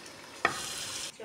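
Koftas frying in a pan, a short sizzling hiss that flares sharply with a sudden burst, holds steady for under a second, then drops away.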